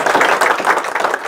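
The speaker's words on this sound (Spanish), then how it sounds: "Démosle un aplauso a la doctora." Brief burst of clapping for a woman doctor at an academic book presentation, dense and steady throughout with no pause.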